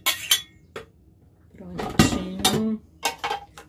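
Teaspoon and dishes clinking in a kitchen while brigadeiro is made, several sharp, close metallic and glassy clinks in separate bursts with short gaps between, one ringing tone, and a voice heard briefly between them.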